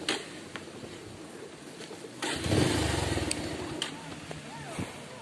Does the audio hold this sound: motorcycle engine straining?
yes